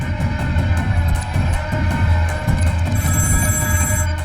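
A telephone rings steadily and loudly in a repeating electronic pattern over a low background hum, with no talking.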